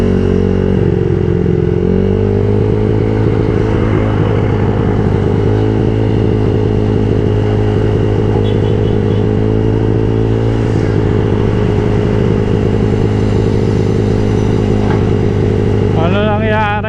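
A Honda Click i125 scooter engine idles loudly and unevenly, sputtering and chugging up close with a fault, with brief shifts in its rhythm.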